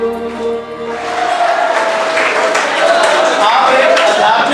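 An audience claps at a Republic Day celebration at Samyak Civil Services, a steady wash of applause that swells after a sung melody fades and keeps going loud and continuous.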